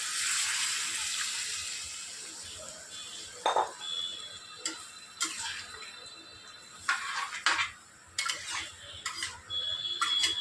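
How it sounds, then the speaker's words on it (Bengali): Pre-heated water poured into a simmering potato, pointed gourd and prawn curry in a kitchen pot: a continuous bright splashing pour, with a few short clinks and stirring knocks of utensils against the pan. "এবার আমার আগে থেকে গরম করে রাখা জলটা ঢেলে দেবো"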